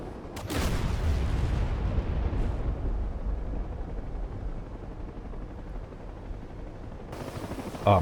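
Unguided bombs detonating in the DCS A-10C flight simulator, a heavy low rumbling blast that opens loud and rolls on as a sustained roar under steady aircraft noise.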